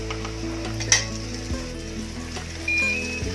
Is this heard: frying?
yes